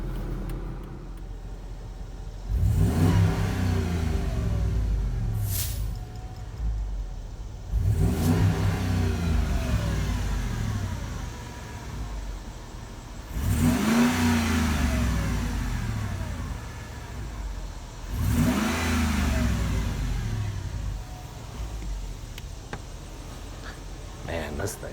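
A 2006 Jeep Commander Limited 4x4 with a 5.7 Hemi V8 revs hard while driving, four deep rumbling bursts of acceleration rising and falling over steady cabin engine drone, loud and close.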